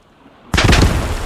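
Mortar fire in a war video game lands as a single sudden, loud blast after a quiet moment, followed by a rumbling, crackling tail of debris.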